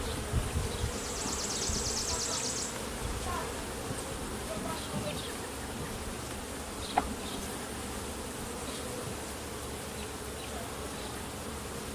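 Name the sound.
honeybees buzzing at an open hive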